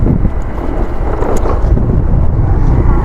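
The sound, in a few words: strong wind during motorbike ride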